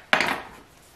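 A knife cuts through a stick of butter marked in tablespoons, making a single short, close knock and scrape that fades quickly into quiet.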